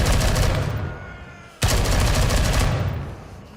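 KS1 rifle fire in the shooter game Gray Zone Warfare comes as dense, loud bursts of rapid shots. One sustained volley fades, stops sharply, then a second long burst follows.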